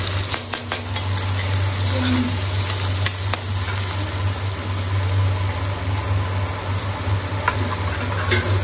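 Pasta being added and stirred in a frying pan, with a steady sizzle and scraping utensil noises over a constant low hum, close and continuous with no talking.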